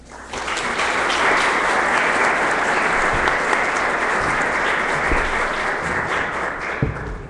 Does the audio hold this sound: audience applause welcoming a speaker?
yes